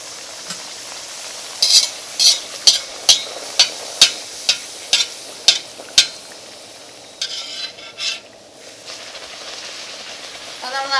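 Thin wheat flour and banana snack frying in oil, a soft sizzle beneath a run of about ten sharp, regular utensil taps against the pan, followed by quieter scraping and shuffling.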